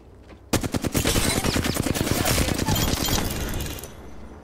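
Rapid automatic gunfire from Apex Legends bursts in suddenly and hammers on in a fast, loud, close stream for about three seconds before easing off.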